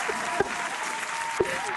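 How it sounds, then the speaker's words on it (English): Audience applause at a live comedy podcast taping, a steady wash of clapping from an easy-to-please crowd, with a couple of short thumps and faint voices mixed in. "It's a long applause."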